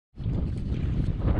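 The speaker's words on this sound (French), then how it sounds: "Il y a tellement de vent et de vagues sur nous" Strong gusting wind buffets the microphone with a constant low roar, with choppy lake waves around a canoe mixed in, loud and close throughout, in Värmland, Sweden.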